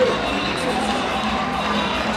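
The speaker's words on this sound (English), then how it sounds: "getting the student section to make some noise" Student section crowd at a Marshfield at SPASH high school boys basketball game cheering and making noise, a steady, loud, wash of voices filling the gym with a commentator talking over it.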